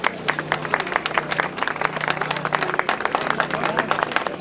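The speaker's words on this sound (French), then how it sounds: "Une grosse main d'applaudissements pour eux." Audience applauding volunteers at a community event, dense sustained clapping from a crowd of about forty people, loud and steady throughout with some background chatter.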